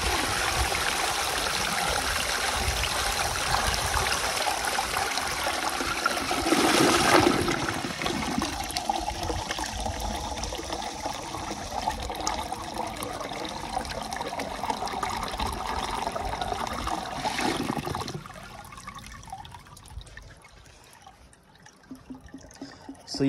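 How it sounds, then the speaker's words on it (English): A 1920 siphon toilet flushes with the water supply shut off, a loud continuous rushing and gurgling of water draining for about eighteen seconds before dropping to a faint trickle as the tank runs out. "I'm gonna flush it until the tank runs out"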